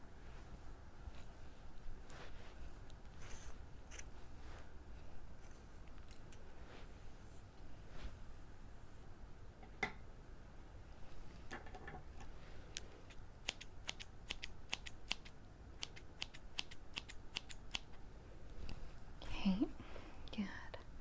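Scissors snip hair during an ASMR haircut role-play, delivering quiet, close crisp clips scattered through the first half and then a rapid run of snips near the end, over a faint hush.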